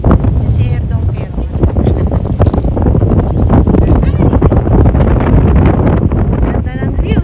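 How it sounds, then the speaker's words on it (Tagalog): Heavy wind at Porteau Cove beach blasts the microphone with a loud, continuous rumbling roar, and people can be heard talking underneath it. "Kaya lang, ang lakas ng hangin."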